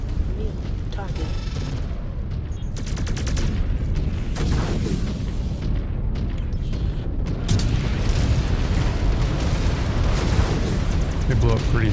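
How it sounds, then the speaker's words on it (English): Loud, continuous booming explosions from destroyed targets in the MechWarrior video game, dense rumbling blasts layered with mechanical clatter and game sound, with voices speaking over the din throughout. "They blew up pretty though."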